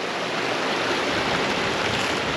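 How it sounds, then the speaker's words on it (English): Small waterfall on Lynx Creek, a steady, loud broadband rush of falling water heard up close without a break. "Got us a little waterfall right there, boy."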